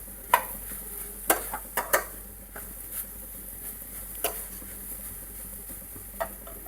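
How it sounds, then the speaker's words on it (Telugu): Grated carrot halwa frying in ghee in a pan, a faint, low sizzle broken by soft scraping and clicking taps of a spoon as it is stirred, with no talking. "ఇప్పుడైతే ఇది కలుపుతూనే ఉండాలండి, లేకపోతే మాడిపోతుంది."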